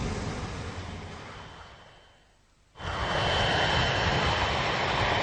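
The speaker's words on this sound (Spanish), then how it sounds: "el vuelo 811 inició su descenso final hasta el aeropuerto de Honolulu" United Airlines Flight 811, a damaged airliner losing altitude on only two engines, descends toward Honolulu with a loud steady engine roar that dips briefly, then surges back even louder and holds.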